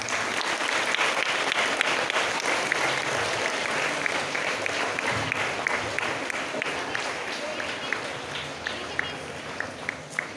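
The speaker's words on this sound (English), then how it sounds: "Please welcome her with a big round of applause" A school audience gives a big round of applause to welcome a 10th-standard student speaker at an Environment Day assembly, dense sustained clapping from many hands that thins toward the end with a few sharper individual claps.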